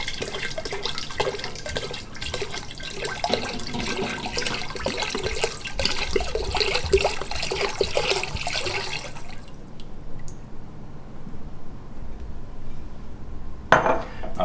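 A full 750 ml bottle of Everclear grain alcohol glugs and splashes steadily into a container for peach pie moonshine, a continuous liquid pour lasting several seconds before it stops, followed by quiet and a single clink of glass.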